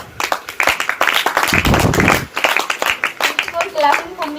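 An audience claps for a student giving a Teacher's Day speech, with scattered, uneven hand claps mixed with nearby talking voices and a brief louder burst of clapping in the middle.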